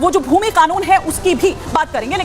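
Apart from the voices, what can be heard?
No everyday noise stands out behind the speech.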